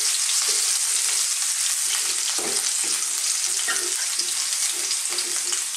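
Chili, garlic and ginger fry in hot oil in a wok, giving a loud, continuous sizzle with occasional stirring scrapes all the way through.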